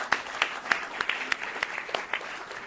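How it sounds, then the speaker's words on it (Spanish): Scattered hand claps from an audience greeting writer Javier Moro, individual claps distinct and irregular, moderately near but fairly quiet. "Un aplauso para Javier Moro, por favor."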